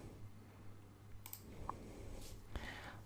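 Two sharp mouse clicks on a Windows 10 start button, one near the middle and one toward the end, heard close over a low steady hum in a quiet room.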